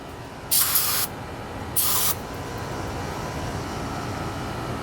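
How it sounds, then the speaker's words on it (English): Two short hissing bursts of carburetor cleaner spray onto carburetor parts during a rebuild, each about half a second, loud and close over a low background hum. "Make sure you get some carb cleaner to get all those shavings off."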